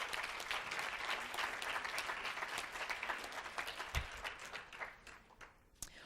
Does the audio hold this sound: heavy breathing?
no